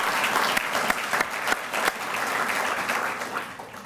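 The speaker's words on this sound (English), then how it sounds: "Please also honor them with an applause this evening." A sizeable audience applauds at an evening university recognition event, a thick continuous patter of clapping with several sharp, louder claps popping out near the front.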